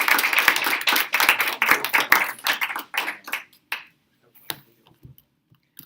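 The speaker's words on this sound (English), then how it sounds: "Give a round of applause" Workshop audience claps, a lively burst of many hands at first that thins steadily into a few scattered, isolated claps before falling quiet.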